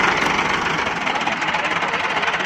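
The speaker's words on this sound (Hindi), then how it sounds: "इसमें परकिन का इंजन है, जो कि बहुत पायदार इंजन थे।" A tractor with a Perkins diesel engine runs loudly and close by, a rough, rapid knocking chug with strong vibration that holds steady throughout.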